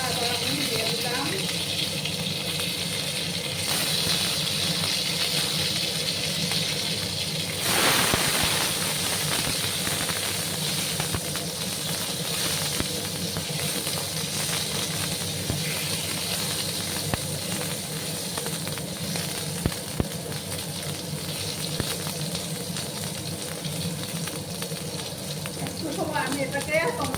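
Chopped tomato and black cumin seeds sizzle in hot oil in a pan, a steady dense hiss running throughout with a brief louder crackle as the tomato goes in, while someone talks over it.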